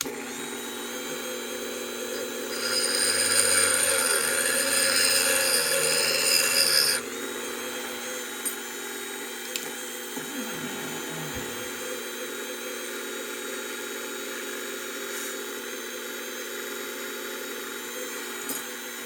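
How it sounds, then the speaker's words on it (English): Small metal lock key pin getting a slight bevel machined on its outer edge: a fine rasping, grinding whir that swells louder for about four seconds, then settles into a quieter steady hum with faint scraping ticks. "Let me put a little bit of a slight bevel on the outside for the key pin"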